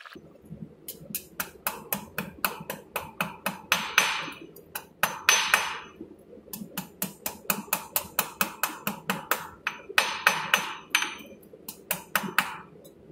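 A blacksmith hammers the thin tip of a hook on an anvil, a long run of sharp, ringing metallic strikes in quick, uneven bursts with short pauses, close and loud.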